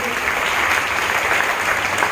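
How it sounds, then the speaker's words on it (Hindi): Loud, steady applause from schoolchildren welcoming two guests, one of them the school librarian, at a school Guru Purnima prize-giving ceremony, a dense continuous wash of clapping that fills the whole stretch. "बच्चों, जोरदार तालियों के साथ दोनों का स्वागत"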